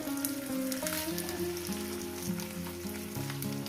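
Onions fry in a pan with a steady, close sizzle and crackle that stays even from start to finish, with no talking.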